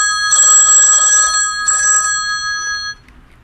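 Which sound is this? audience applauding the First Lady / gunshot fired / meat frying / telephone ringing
telephone ringing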